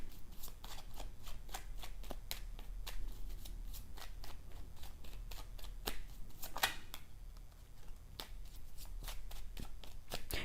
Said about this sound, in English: I want to pull one more card for that.